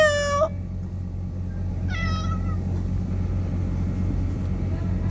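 A pet cat being fed gives two clear meows, a longer one at the start and a shorter one soon after, over a steady low hum of background noise.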